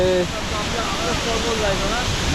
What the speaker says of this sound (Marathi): ह्या सुंदर धबधबा